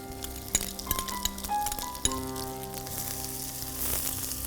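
Onion frying in ghee with whole garam masala, a quiet sizzle with occasional clinks of a spoon against the pan, a few sharp taps near the start, close and fairly soft.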